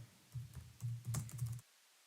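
Typing on a computer keyboard, a few short bursts of close, soft key clicks in quick succession, then silence.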